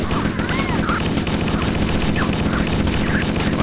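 Dense gunfire in the game Cursed Halo, rapid bursts and continuous shooting with explosions layered in a loud, busy mix, while a player talks over it.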